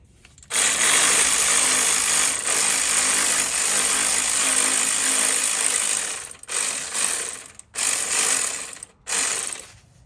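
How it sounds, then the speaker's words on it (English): A 15 mm belt tensioner bolt is loosened with a ratchet on a Jeep 4.0 engine, giving a loud, steady stretch of mechanical clicking and whirring that breaks into several short bursts near the end. "the tensioner bolt's a 15 millimeter, and we're just going to go ahead and loosen this to where we're able to remove the belt"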